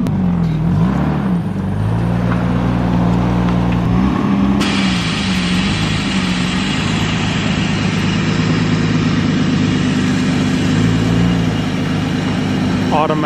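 A BMW E36 M3 engine runs at a steady, loud idle close by, with a low rumble throughout and slight wavering in pitch.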